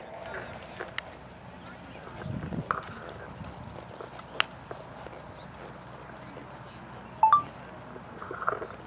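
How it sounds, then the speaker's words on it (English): Ponies walking in a riding arena, hooves clip-clopping in a soft, uneven rhythm at moderate distance, with a few sharper knocks and an instructor's voice calling to the riders over them. "And canter your ponies. Let's all go canter."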